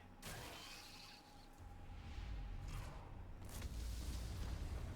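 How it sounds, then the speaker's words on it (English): Muffled booms and crackling bursts like fireworks echo through ant tunnels in the Solo Leveling Arise video game, a few distant blasts over a low rumbling bed, fairly faint overall. "Looks like fireworks are going off in the ant tunnels."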